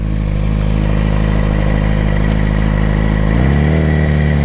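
A Yamaha R6 motorcycle engine runs loud and close, holding a steady rumble before a quick rev climbs in pitch near the end, with no talk over it.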